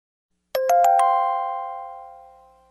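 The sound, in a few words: bell knell sound effect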